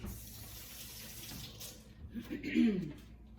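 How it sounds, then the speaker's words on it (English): Tap water runs over hands at a kitchen sink, a soft steady splashing that rises briefly near the end, with a voice faintly present beneath. "Rinse my hands real quick."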